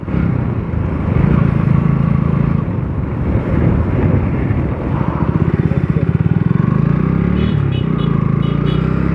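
A motorcycle cruises along an empty road, its steady engine drone and strong wind rush filling the recording up close and loud, with a slight shift in engine pitch near the end and no talk.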